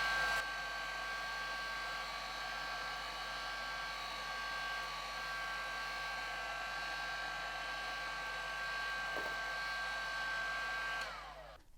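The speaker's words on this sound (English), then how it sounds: "This is the same heat gun as the one here, but it's fixed on a stand so you can use both hands." A heat gun fixed on a stand runs continuously with a steady, whining hot-air roar, close and constant before cutting off at the end.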